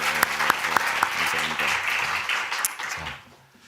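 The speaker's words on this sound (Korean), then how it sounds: "도전하는 거에 박수하겠습니다" Clapping from a church congregation during a youth service sermon, with a few sharp individual claps standing out over a dense wash of applause that fades toward the end, mixed with a voice.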